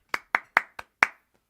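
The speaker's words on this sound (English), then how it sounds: "Round of applause for Doug" One person claps five sharp, evenly spaced times on a livestream, close and dry, with no crowd and no talking.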